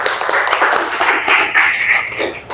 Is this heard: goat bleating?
no